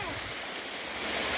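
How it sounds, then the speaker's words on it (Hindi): A real waterfall at Lonavala pours in a steady, loud broadband rush that fills the short stretch without a break and swells slightly toward the end. "ये एक्चुअल झरना है, तो एक्चुअल में एक्चुअल"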